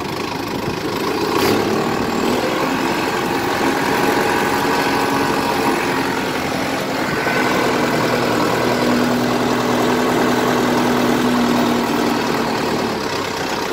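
Kubota M6040 tractor with front loader, diesel engine running steadily nearby, a continuous loud rumble and drone with a faint tonal whine, no talking.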